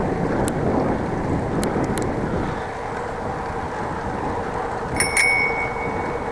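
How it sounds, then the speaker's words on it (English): A bicycle bell rings twice in quick succession near the end, clear and bright over steady wind and outdoor rumble, while cycling in Groningen. "let's ring the bell and prevent accidents"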